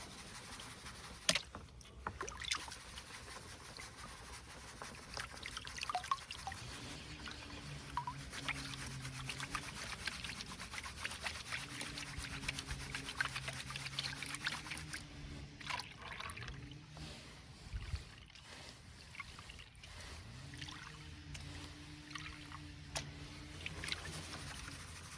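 Water sloshing and swirling in a gold pan while paydirt is panned, soft rhythmic washing and trickling sounds close by, with a low intermittent hum underneath and no speech.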